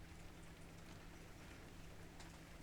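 Rain drums steadily on a warehouse roof, a dense, even hiss of drops that stays constant throughout with no voices.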